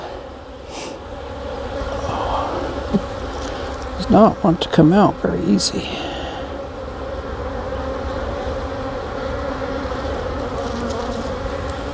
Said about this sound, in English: We've got a few bees still.